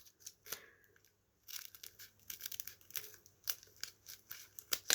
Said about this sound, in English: Snip said panty liner to form straight